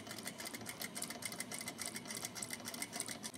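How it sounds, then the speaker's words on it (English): A sewing machine stitches a simple silk-style scarf at a steady, fast rhythm, the needle chattering evenly and close by with no talk over it. "And then sew the rest of the way at a 90 degree angle."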